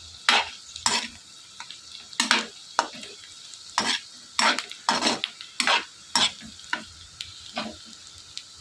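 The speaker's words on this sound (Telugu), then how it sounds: "ఇలా కొంచెం ఫ్రై అయిపోయిన తర్వాత ఇవన్నీ కూడా మిక్స్ చేసుకుని ఫ్రై చేసుకోవాలి" Egg noodles being stir-fried and mixed in a pan, with a spatula scraping and clanking against the metal in irregular strokes, each stroke followed by a short sizzle, close and alone.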